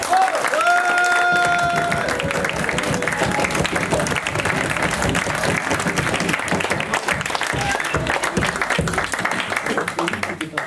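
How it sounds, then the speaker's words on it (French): An audience at an improv theatre match applauds steadily and loudly for about ten seconds, a dense wash of clapping with a brief tonal sound near the start. "Vous pouvez les applaudir bien fort si vous voulez."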